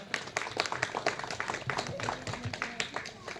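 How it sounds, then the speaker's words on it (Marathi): An audience at a Haldi-Kunku ceremony for Makar Sankranti claps, giving fairly quiet, continuous applause with voices mixed in. "तुमच्यासाठी जोरात टाळ्या वाजवा."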